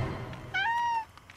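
A cat meows once in a drawn-out, rising-then-falling call inside a television advert about cats with thumbs, clear and close over a low background murmur.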